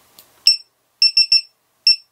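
A DroneKeeper Mini 2 drone finder powering up on a quadcopter gives a sharp high electronic beep, then three quick beeps in a burst and one more after a pause, loud and clear with no talk.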